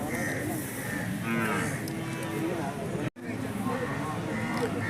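Cattle moo at the Chattipparamba cattle market amid a busy crowd, with a drawn-out low call standing above continuous chatter and general market noise.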